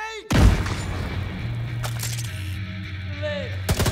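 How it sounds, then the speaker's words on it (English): In The Division 2, a thrown grenade goes off with a sudden heavy boom, followed by gunfire and combat noise while voices talk over the scene. "I'm going to throw a grenade on the guy on the far left"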